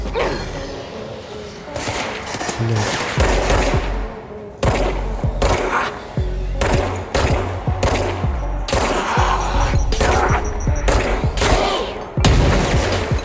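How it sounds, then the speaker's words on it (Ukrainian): Grenade explosions and bursts of gunfire in the video game Control, heard as loud, rapid volleys of shots with heavy booms, broken by brief pauses throughout. "Дивний звук якийсь, вони що, гранати в мене кидають?"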